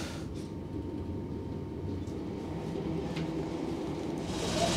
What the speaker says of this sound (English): Now that the diesel engines have come on, the train has become a lot more rattly.